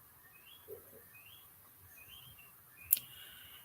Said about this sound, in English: Let's listen to the birds if you can hear them.